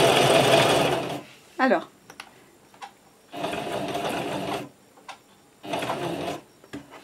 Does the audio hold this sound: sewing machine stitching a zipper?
yes